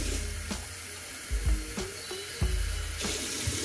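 Tap water running into a small bottle at a sink in Austria, a steady close hiss of flow with a few knocks and splashes as the bottle is handled.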